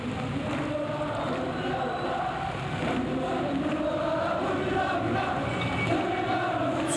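A huge crowd of protesting citizens roars without a break along an eight-lane road in Busan during the June 1987 demonstrations. The shouting forms a dense, steady wall of noise that fills the street.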